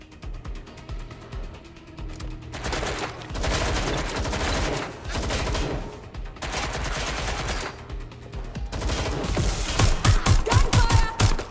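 Video game gunfire in Watch Dogs Legion: repeated loud automatic bursts and fusillades come in waves, broken by brief lulls and mechanical clicks, growing denser toward the end.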